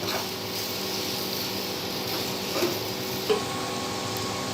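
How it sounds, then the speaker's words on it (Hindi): Soft scraping and light clinks of a utensil stirring boiled macaroni in a frying pan over a faint continuous sizzle on low heat, with no talking. "ये देखिए हमने मैक्रोनी भी मिक्स कर ली है"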